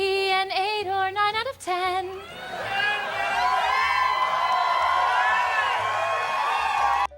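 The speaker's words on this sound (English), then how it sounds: "There was also a lot of applause at the 8 or 9 out of 10 line." After a few raised voices, a live comedy stage show audience erupts in cheering and whooping that swells and holds loud and steady, with applause underneath.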